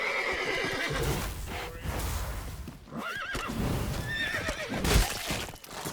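A horse whinnies loudly several times amid clattering hooves and rumbling movement in the video game The Witcher 3, continuous and close.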